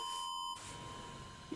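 An electronic beep from the Danganronpa video game: a steady, clear tone holds for about half a second and then cuts off, leaving quiet background noise.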